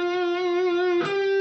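Distorted electric guitar playing a metalcore lead lick, a single sustained note held with hand vibrato before a brief pick attack shifts to a higher sustained tone, played alone.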